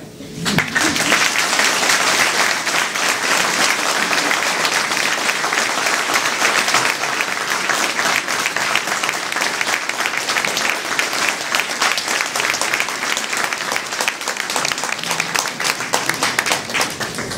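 Audience applause fills an award and decoration ceremony hall, steady dense clapping from a large crowd lasting throughout, loud and continuous with no voices on top.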